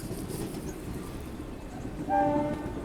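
A passenger express with a red locomotive rumbles steadily across a road-cum-rail bridge near Godavari, with a sustained horn blast sounding partway through over the continuous rolling noise.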